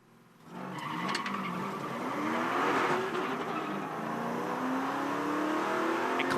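V8 ute race cars launching from the start at Phillip Island, engines roaring up together with rising revs and tyre squeal, loud and close, filling the track with a sustained wall of engine noise.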